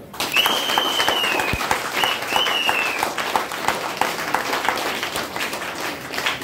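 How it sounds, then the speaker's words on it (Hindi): A seated audience at a Hindi motivational talk breaks into sustained applause, a thick, continuous patter of many hands with a few sharper individual claps standing out, holding steady for several seconds. "ताली मार सकते"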